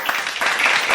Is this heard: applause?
yes